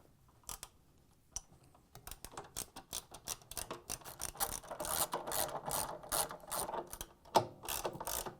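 A ratchet wrench tightens 13mm bolts holding the top front counterweight on a Whirlpool top-load washer, giving quick runs of close, crisp pawl clicks in bursts that grow busier and louder toward the end.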